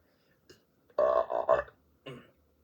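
A man's burp, a few short guttural eructations in quick succession followed by one shorter burp, close and fairly loud against a quiet room.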